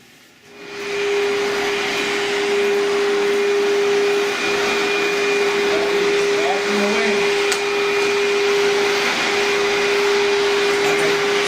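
A vacuum cleaner switches on and runs steadily with a loud, even whine and drone that holds throughout.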